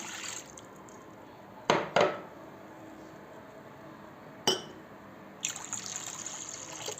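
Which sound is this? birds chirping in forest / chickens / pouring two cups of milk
pouring two cups of milk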